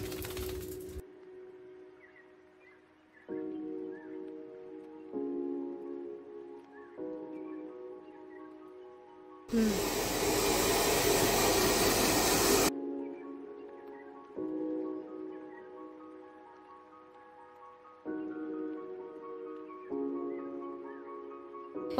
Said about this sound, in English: after giving her a quick blow dry